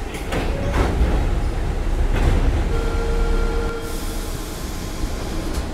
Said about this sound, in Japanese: 列車出発します